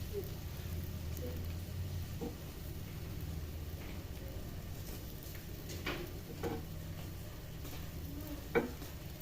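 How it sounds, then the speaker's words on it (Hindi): A cheese omelette sandwich frying in a pan as the cheese melts, giving a steady low sizzle with a few soft scraping and tapping sounds, close by and without speech. "और इसको थोड़ा सा आप भून लें ताकि इसकी चीज़ मेल्ट हो मज़े की"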